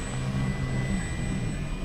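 An FMS Super EZ V4 RC trainer airplane, 1220 mm span, drones overhead with a steady electric motor buzz and a constant high whine, fairly loud and unbroken.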